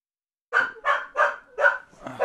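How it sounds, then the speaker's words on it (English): A dog barks five times in quick succession, fairly close and clear, each sharp bark evenly spaced after a short silence. "I don't understand what she's barking at."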